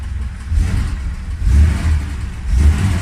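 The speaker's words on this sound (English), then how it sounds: "Yep, excellent throttle response. It's an inline 6-cylinder classic Mercedes engine." A 1969 Mercedes Unimog's classic inline six-cylinder engine revs close by in repeated throttle blips, deep rumbling pulses rising and falling over a steady idle.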